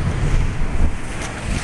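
Ocean surf and strong wind at West Whale Bay on the South Shore ahead of Hurricane Igor, a loud, continuous wash of breaking waves with heavy wind buffeting the microphone.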